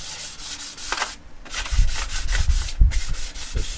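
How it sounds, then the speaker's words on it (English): A light hand sanding of the sprayed finish on a left-handed Tele-style electric guitar kit body: close, rhythmic rubbing strokes that scuff the surface in uneven back-and-forth passes, alone without talk. "So yeah, just give it a light sand."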